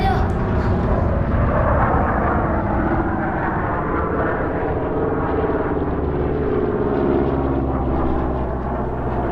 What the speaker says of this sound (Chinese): 日本飞机又来了！